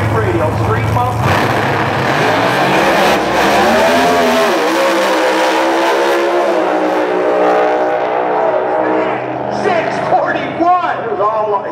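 A street muscle drag race car launches and accelerates hard down the strip, its loud engine roar sweeping upward through gears and fading as it pulls away, with an announcer talking over it.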